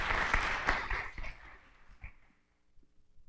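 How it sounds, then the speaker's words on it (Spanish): An audience at a medical talk on rheumatic diseases claps for Dr. Pacheco, a brief burst of applause that thins out and dies away within a few seconds. "les pido un aplauso para el doctor Pacheco,"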